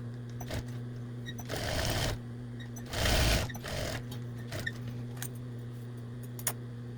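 A sewing machine stitching across the hem of a kid's apron pocket, running in two short bursts over a steady motor hum, with light clicks and handling noises between, fairly quiet and close.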